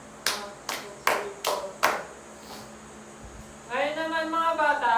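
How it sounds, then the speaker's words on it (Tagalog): Five sharp, evenly spaced claps ring out one after another, followed after a short pause by a voice speaking. "Ngayon naman, bigyan natin ng 5 palakpak ang inyong sarili."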